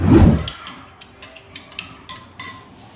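Spoon clinking and scraping inside a glass as basil seeds are stirred into a sharbat drink, a loud initial clatter followed by a series of light, bright taps and rattles at irregular intervals, close and without talk.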